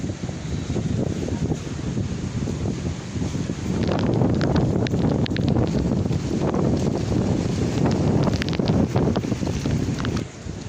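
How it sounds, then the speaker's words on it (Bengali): Cyclone Remal's wind and rain batter a house in Bangladesh, a loud continuous roar of gusting wind with rain hissing and pattering steadily throughout, swelling stronger midway. "এই রেমাল ঝড় ঘূর্ণিঝড় থামার নাম নেই"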